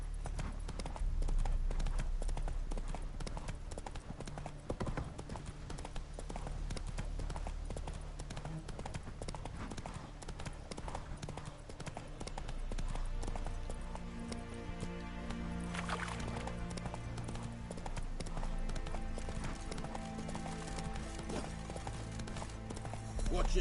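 Roach, the horse in The Witcher video game, trots with steady, quick clip-clop hoofbeats on hard ground, quiet and continuous, with occasional talk over it.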